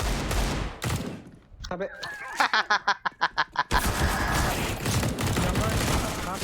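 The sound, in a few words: gunfire in the video game Free Fire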